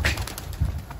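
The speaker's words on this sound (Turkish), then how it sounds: "Tekrar indi benim kuşlar." Pet birds come back down to land, with soft, brief wing flaps and a faint coo or two from near the camera. There is no talking.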